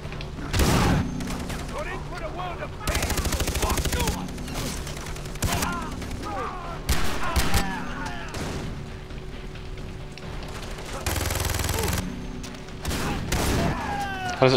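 Repeated shotgun blasts and other gunfire in the video game Far Cry 3, loud bursts recurring through the whole stretch with a voice talking between them.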